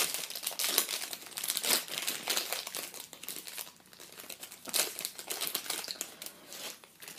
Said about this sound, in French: Je pense que je vais déchirer le papier.